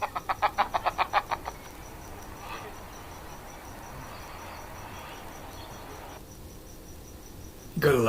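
Birds calling beside a 5G tower: a quick burst of about nine rhythmic, evenly spaced chirps, then a steady outdoor hiss with faint calls, ending in a sudden louder rustle.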